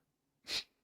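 A single sharp sneeze bursts out at close range, loud and brief, with a breathy onset and no talking around it.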